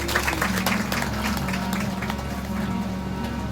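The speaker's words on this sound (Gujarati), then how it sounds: "બધા બાપુને તાળી પાડી બધાઈ" Audience at a satsang gathering clapping for Bapu, a steady sustained wash of applause from many hands, dense and even throughout with no voices standing out.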